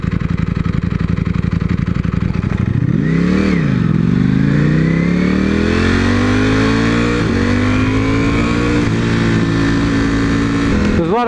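A motorcycle engine revs loudly and close, sweeping up and back down once, then climbing in a long steady rise with a brief dip near the end.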